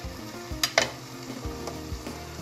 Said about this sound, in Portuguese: Você vai deixar refogar um pouquinhozinho aqui.